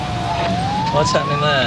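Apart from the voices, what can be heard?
ambulance siren approaching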